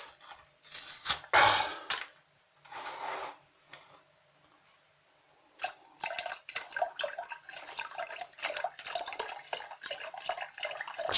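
Apple juice is poured from a litre carton, first in short glugging splashes, then after a quiet pause as a steady trickling stream of liquid into a container; close and fairly soft, with no talk.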